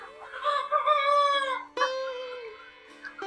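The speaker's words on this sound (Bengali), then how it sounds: "মুরগি এখন অনেক বড় হয়ে গেছে" Chickens in a poultry farm shed cluck and a rooster crows nearby, a close, loud run of rising and falling calls followed by a second, shorter burst of crowing.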